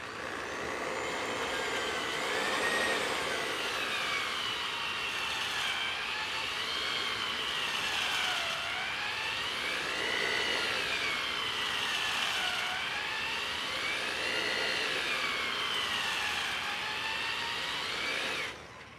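Cylinder hone spinning inside engine cylinders during a garage engine build, a steady loud whirring grind with wavering pitch as the tool strokes up and down, continuous for the whole stretch and cutting off at the end.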